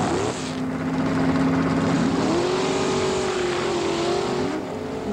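Race cars roar loudly and continuously at a national hot rod race at Houston Raceway Park, engine tones rising and shifting as they accelerate, with no talk.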